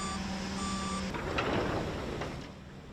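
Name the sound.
truck loaded with sugar cane heading to the mill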